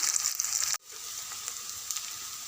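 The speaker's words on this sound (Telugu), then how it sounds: "అందులో వెమ్మడ కరివేపాకు వెమ్మడ కరివేపాకు ఉల్లిగడ్డలు రెడ్గా అయ్యే వరకు ఫ్రై కానివ్వాలి" Onions and curry leaves fry in hot oil with a bright, continuous sizzle that cuts out for an instant, then crackles back at a slightly lower level.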